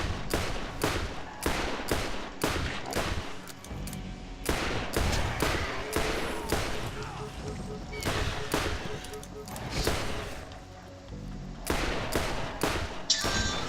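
Pistol shots ring out in the video game Borderlands, a steady stream of sharp, loud single reports at a quick, slightly uneven rhythm, with a voice speaking between some of them.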